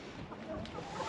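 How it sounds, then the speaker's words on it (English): A rooster clucks in a hen house, with short, close clucking over a brief stretch of barnyard ambience. "That's a good looking rooster."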